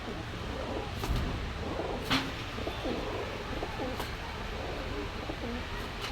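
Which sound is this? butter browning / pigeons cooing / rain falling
pigeons cooing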